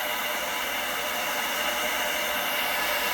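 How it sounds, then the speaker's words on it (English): A blow dryer roars in a continuous, even hiss as it pushes acrylic paint across a Dutch pour canvas, held close and loud with no pauses. "Touch the blow dryer to the pin, went a little too close."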